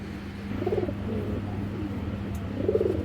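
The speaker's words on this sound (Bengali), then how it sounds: "বিশাল বড় ইন্ডিয়ান গাংচিল কবুতর" A pair of large Indian Gangchil pigeons coos in low, soft, repeated phrases close by after being released, with a faint steady hum underneath.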